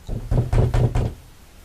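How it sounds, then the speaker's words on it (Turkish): Knocking on a door in a video game, four loud heavy thuds in quick succession, close and alone, then quiet. "Kapı çaldı lan."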